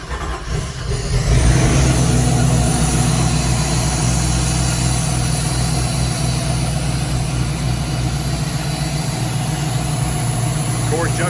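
An inboard boat engine turns over and catches, then settles into a steady, loud idling rumble that runs on continuously.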